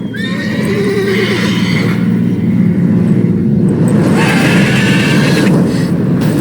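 A mare in The Witcher 3 video game neighs loudly twice, long shrill whinnies over a steady low rumble of hooves and motion.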